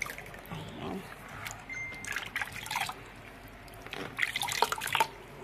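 Water with a salt solution for a foot soak, trickling and dripping in a basin; intermittent close splashes and drips with soft voices talking in the background.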